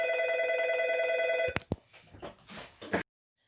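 A telephone rings with a steady electronic trill, then is cut off by clicks and handling noises before falling silent.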